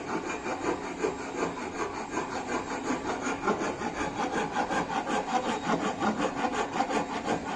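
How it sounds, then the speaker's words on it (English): A rasp cut file scrapes back and forth across a wooden workpiece in a carpentry shop, producing rhythmic, evenly spaced rasping strokes, close and continuous with no talk. "this rasp cut file is used"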